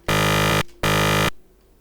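Two synthesized tones rendered together into one buzzy, harmonically rich sound, played twice as loud half-second bursts with a short gap, nothing else heard.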